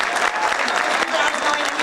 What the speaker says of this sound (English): One more round of applause for all.